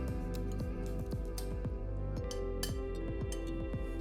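Octopus salad with diced tomatoes, parsley and onion being tossed, producing a rapid series of light clinks and wet squishes from a utensil against a bowl, steady and close with no talk.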